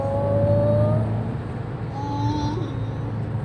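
A 2006 manual Toyota Avanza, tuned, accelerates hard to overtake on the road, its engine note heard from inside the car as a steady drone with a rising whine partway through.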